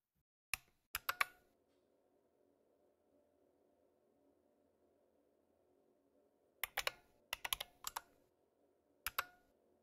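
Computer keyboard typing on a Linux desktop, a quick burst of a few close clicks, a long quiet pause with a faint hum, then two more clusters of sharp keystrokes.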